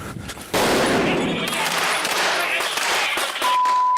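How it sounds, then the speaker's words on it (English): A sharp loud stun grenade blast followed by a long rushing burst of gunfire noise and scattered cracks, with a brief voice near the start. "The stun grenades and the gunfire are supposed to disorientate the enemy."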